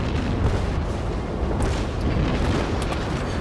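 Battleship guns fire in World of Warships, a dense, continuous low rumble of booming cannon blasts and rolling explosions, loud and close throughout.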